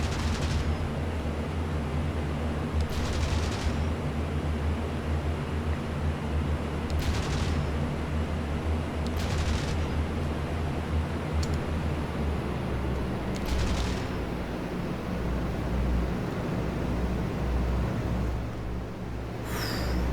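Aircraft machine guns firing in the flight combat game IL-2 Great Battles, with several short bursts of rapid fire spaced apart over a constant loud engine drone.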